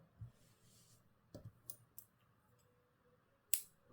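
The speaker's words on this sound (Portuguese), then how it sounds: "já posso cortar esse fio" Scissors snipping crochet yarn, a few soft crisp clicks and cuts over about four seconds, quiet and close, with one sharper snip near the end and no voices.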